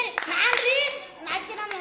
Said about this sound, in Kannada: ವೆರಿ ಗುಡ್, ಚಪ್ಪಾಳೆ ಹಾಕ್ರ ಅವಂಗ